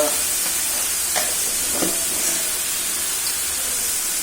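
Turmeric and cumin paste fries in a pan with a constant soft hiss and sizzle, close and steady, with a couple of faint stirring scrapes.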